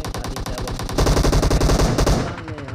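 Rapid automatic gunfire from a mobile battle royale esports match, a loud, steady stream of rattling bursts that grows denser and heavier midway before thinning near the end.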